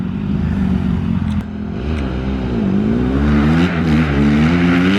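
Two Honda dirt bike engines, a CRF150R and a CRF150F, racing nearby, loud and continuous with buzzing revs that rise and fall as the riders shift and accelerate.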